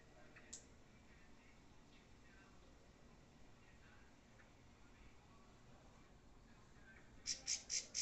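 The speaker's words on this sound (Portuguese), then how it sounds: "Tem algum pássaro diferente aqui." An unusual bird calls in a natural setting: three short, high chirps arrive in quick succession near the end, rising clearly above an otherwise faint, quiet background hiss.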